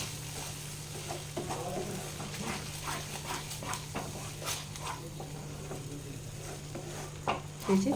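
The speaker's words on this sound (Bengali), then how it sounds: "এরপর আমি এই যে চালমগজ আর কাজুটা বেটে রেখেছিলাম সেইটা আমি দিয়ে দেব এটা একটু ভেজে নিতে হবে ভালোভাবে" A ground paste of melon seeds and cashews fries in a pan, producing a soft, steady sizzle with intermittent stirring scrapes and a low constant hum underneath.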